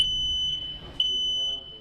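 A smoke alarm sounds in sharp, piercing high beeps, repeating about twice a second, loud and close with a faint murmur underneath.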